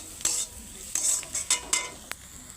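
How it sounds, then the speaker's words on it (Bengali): Hot egg tadka dal is stirred and mashed in a pan over a gas flame, with a series of short scraping and clinking strokes of a spoon against the metal, fairly close and alone, with no talk. "এই চরখিলে তরকার ডালটা বেশ গরম থাকতে থাকতে ঘেঁটে নিবে"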